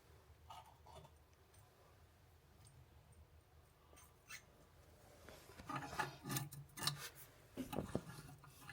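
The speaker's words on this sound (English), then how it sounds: "So just making that nut onto the bottom of the lever valve like so." A nut being threaded onto the bottom of a lever valve on a cut copper pipe during an emergency plumbing repair: faint, close scraping and rubbing that comes and goes, growing busier and louder toward the end.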